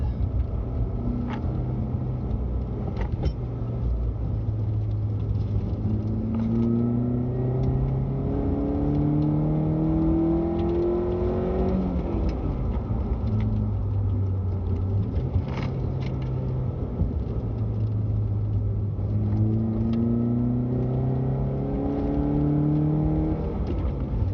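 Chevrolet Spark M400 with an aftermarket air intake, its engine revving and rising through gears on a narrow road, steady loud drone with repeated upward sweeps and brief dips between shifts, no talking.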